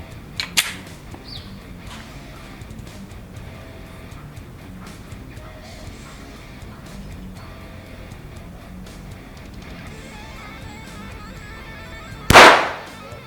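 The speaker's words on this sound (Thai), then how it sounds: "เริ่มยิง" A single sharp report from a Glock 44 .22LR pistol at an outdoor shooting range, fired at the far end of the range; a faint crack comes early and a louder, close shot near the end over steady background noise.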